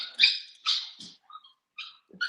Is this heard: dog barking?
yes